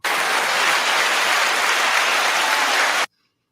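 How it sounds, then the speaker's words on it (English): Short burst of audience applause for Chicago mayor Lori Lightfoot, a dense, steady wash of clapping lasting about three seconds before cutting off abruptly into silence. "Yeah, that was a short clap, but okay."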